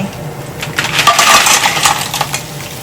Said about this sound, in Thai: ทีนี้ก็ใส่หอยลาย